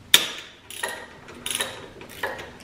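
Ratchet clicks on the motor mount bolts of a 2022 KLR 650 motorcycle during crash bar installation: a sharp metallic snap, then a few soft, short ratcheting strokes, close up with no talk.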